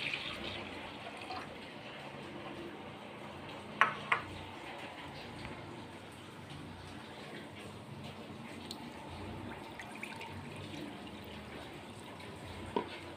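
Water poured into a pot of washed chana dal in a home kitchen, a steady soft trickle and gurgle running throughout, with a couple of brief clinks of vessels and no talk.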